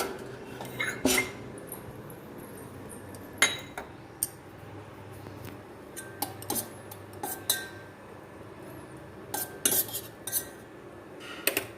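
Sweet rice with sugar and ghee is spooned into a small bowl as a Navratri offering, bringing intermittent metal spoon clinks and scrapes against dishes, close and fairly crisp over a quiet background.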